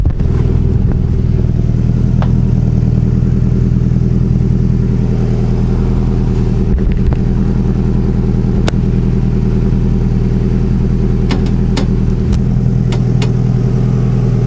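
A Honda Accord with all-wheel drive idles steadily through a freshly welded exhaust, a deep continuous rumble held close and loud throughout, with a few faint clicks over it.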